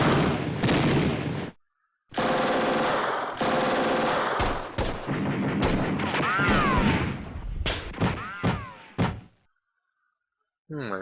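Bursts of gunfire from the Steel Panthers WW2 war game, clusters of sharp shots and thumps separated by brief silent gaps, with some game voices mixed in.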